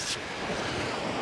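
Wind blows across the pebble shore of Chesil Beach in the UK during a fishing trip, a steady rushing roar buffeting the microphone, mixed with a wash of surf and no talk.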